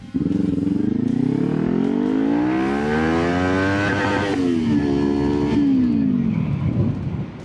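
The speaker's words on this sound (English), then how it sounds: "Did I redline so bad out there? Should have shifted way sooner." Motorcycle engine screams up through its revs toward redline, a loud close whine climbing steadily, briefly dropping and surging again before easing off near the end, with no talking.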